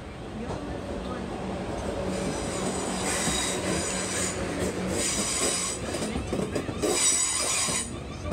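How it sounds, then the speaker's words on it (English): A UK passenger train bound for London Waterloo rolls along the rails with a steady rumble and clatter, wheels squealing and hissing louder in patches, under faint onboard background noise. "This train is for London Waterloo."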